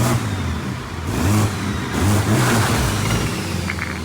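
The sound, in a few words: BMW M3 engine revving, driving down the road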